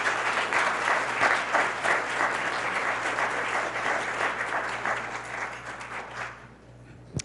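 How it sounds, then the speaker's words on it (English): An audience at a school awards ceremony gives a steady, full round of applause that holds for several seconds before dropping off abruptly near the end. "Let's give her another round of applause,"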